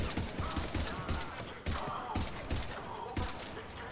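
Rapid gunfire in Mass Effect 3 rattles in repeated bursts with short breaks between them, loud and close throughout.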